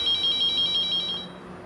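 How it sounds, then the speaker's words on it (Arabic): A telephone rings loudly and alone in a scene from an Egyptian Ramadan 2024 TV drama, a rapid warbling electronic trill that pulses evenly, then cuts off. "تليفون."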